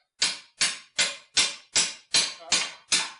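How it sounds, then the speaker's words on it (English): Eight sharp, evenly spaced hammer blows on a wire frame, each ringing briefly before the next, loud and close with no talking. "we're gonna need a heavier hammer than that"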